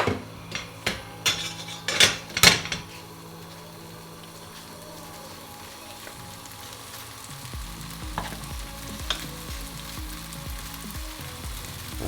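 Tofu frying lightly in a pan with a soft, steady sizzle, a few sharp clinks and scrapes of a utensil near the start, then quieter sizzling with occasional soft taps.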